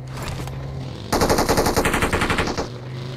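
Automatic gunfire from the video game PUBG Mobile bursts out in a rapid rattling string of shots lasting about a second and a half, loud and close, with a steady hum before and after.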